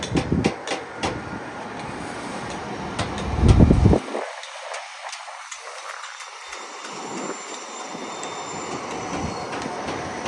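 An electric train passing on a double-track line near a station, a loud rumble and clatter of wheels ending abruptly, then quieter rattling and squeal as cars continue by.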